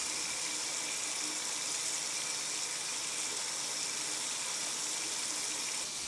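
Water from a tap runs steadily over hands being rinsed, a continuous hissing gush at moderate level with no talking throughout.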